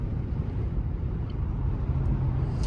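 Interior ambience of a 2023 BMW i7 electric car while driving: a steady low road and wind rumble with faint hiss, continuous and even, no talking.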